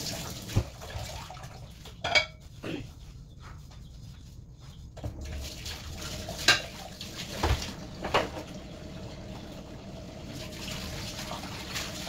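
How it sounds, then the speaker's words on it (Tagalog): Dishes being washed under running water from a tap, with faint trickling, drips and occasional clinks of plates and pots in a quiet home kitchen during Ramadan; no one speaks. "Ngayon ay hugas na tayo ng dapat hugasan."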